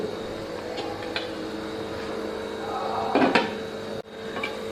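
Metal lid set onto a cooking pot, light clinks and a brief clattering scrape over a quiet sizzling background, ending with a sudden cutoff, close and without talk.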